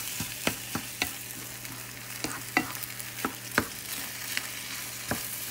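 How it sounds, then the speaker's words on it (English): Ten scrambled eggs sizzle steadily in a frying pan as a utensil scrapes and stirs them, with sharp scraping clicks recurring every half second or so over the constant fry hiss. "let those eggs scramble through"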